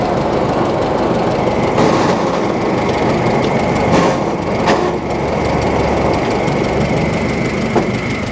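Engine of a 1946 David Brown aircraft tug running steadily, a loud close mechanical clatter and rumble with a few knocks, continuous throughout.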